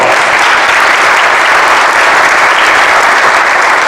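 Audience at a wind energy conference applauding, a dense, loud, continuous burst of clapping with no pauses.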